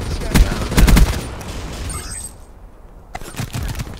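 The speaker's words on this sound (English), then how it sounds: "we got shotguns now" Shotgun fire in Call of Duty Black Ops 3 comes as loud close blasts, a quick cluster early on, then a quieter stretch and more shots near the end.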